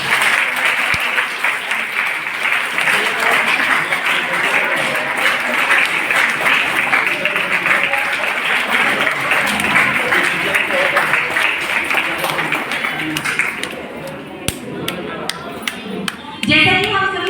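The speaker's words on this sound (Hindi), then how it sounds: "देखिए तालियों की कंजूसी नहीं होनी चाहिए।" Audience applause at a Hamara Aangan Hamare Bachche early childhood celebration, dense sustained clapping from a crowd that fades out near the end, followed by a few scattered claps and a voice.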